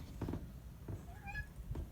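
A domestic cat gives a few short meows, fairly close and moderately loud, over low background rumble; no one speaks during it.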